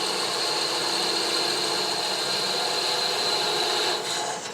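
A turning tool cutting an heirloom wooden rolling pin on a lathe spinning at around 1,000 rpm makes a steady whirring, scraping hum that holds evenly and close, then dips slightly near the end.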